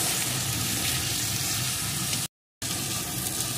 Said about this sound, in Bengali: এখন সমস্ত কিছু ভালো করে কষিয়ে নেব।